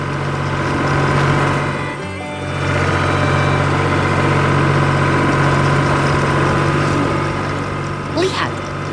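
Engines of a blue farm truck and farm machinery run steadily in an animated farm scene, a constant low idling drone throughout with a brief dip, plus a short high whistle near the end.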